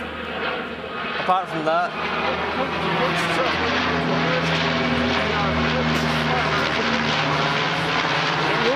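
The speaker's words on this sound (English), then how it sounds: "No way, there's a plane." A propeller airplane drones overhead, a loud, steady engine hum with harmonic tones that holds through the whole stretch, while people talk briefly on a film set.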